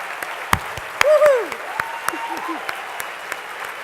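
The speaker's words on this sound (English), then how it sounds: "let's give them a round of applause" Luncheon guests give a round of applause with sparse, distinct hand claps spread across a few seconds, mixed with a brief whistle-like tone and murmured voices in the room.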